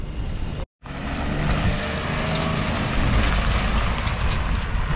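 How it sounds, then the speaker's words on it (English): A Kyosho FW-06 two-speed nitro RC car does a burnout, a loud, dense engine roar after a brief silent cut, staying steady and close throughout with no talk over it. "It's a burnout."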